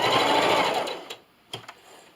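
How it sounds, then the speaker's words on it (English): Sewing machine stitching binding onto a quilted Halloween table runner, running in one quick close burst for about a second before stopping, followed by a couple of small mechanical clicks. "And then I'm just going to sew right off the corner."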